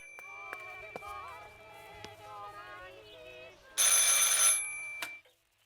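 A telephone rings in the video game Martha Is Dead: one loud, bright burst of ringing cuts in over a quiet, sustained musical score and stops abruptly after under a second.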